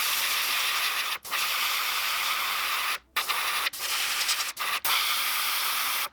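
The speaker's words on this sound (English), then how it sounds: "The airbrush is an amazing tool." An airbrush sprays white paint onto a crankbait fishing lure in a steady close hiss, broken by several brief pauses where the trigger is released.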